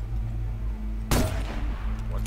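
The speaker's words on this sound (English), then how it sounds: "Shooting out that light would get his attention." A single loud, sharp rifle shot in Assassin's Creed Chronicles Russia cracks out over a low steady hum, followed by a short fading tail.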